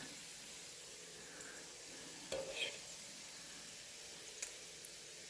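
Butcher Box bacon frying in a pan, a quiet steady sizzle with scattered sharp pops and a brief clatter of a utensil turning strips partway through.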